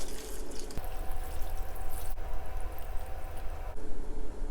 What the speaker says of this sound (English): Now go in with 6 cups of water.